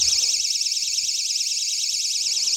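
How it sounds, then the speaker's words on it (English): A GE personal security window and door alarm sounds a loud, piercing electronic siren. It warbles steadily and continuously from close range, with nothing else heard. "And this is the alarm, which is obviously really loud"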